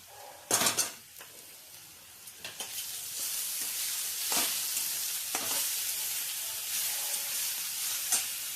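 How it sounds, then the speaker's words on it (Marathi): Green chillies and garlic fry in a pan with a steady hiss, opening on a loud clatter and followed by occasional scraping stirs of a utensil against the pan. "आता मिरची आपल्याला त्याच्यात परतून घ्यायची चांगली"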